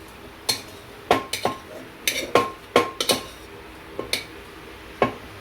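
A spoon mashes ghughri in a metal pot, giving about a dozen irregular clinks and scrapes, close by with no talking.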